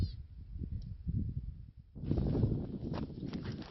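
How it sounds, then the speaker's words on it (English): Wind rumbles and buffets steadily against the microphone outdoors in a wadi, a dry waterway, rising into a stronger gust partway through. "So it's a bit windy out here."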